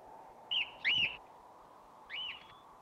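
A bird gives three clear whistled calls, two close together and a third after a pause, standing out over a quiet, steady background hum with no talking.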